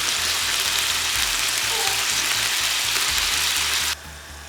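Beef sizzles steadily in a pan with its juices, a loud, continuous frying hiss that drops abruptly to a quieter simmer near the end.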